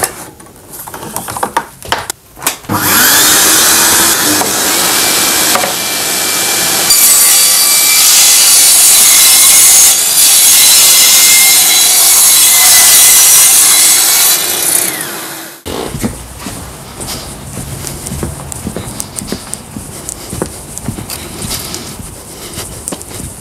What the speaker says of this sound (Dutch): Dus je zaagt er even af.